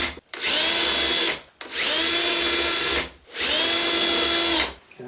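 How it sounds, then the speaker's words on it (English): A power drill pre-drilling 2x4 wood whirs three times in long, steady bursts, each spinning up, holding, then winding down, with brief pauses between, loud and close. "Now I'm going to pre-drill."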